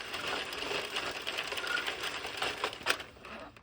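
An Addi circular knitting machine clatters with rapid mechanical clicks and rattles as its latch is set, fairly close and steady throughout.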